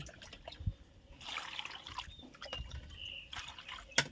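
Water trickles and splashes over pickled bamboo shoots being rinsed with well water, a soft close pouring with faint drips and a sharper splash near the end, no voices.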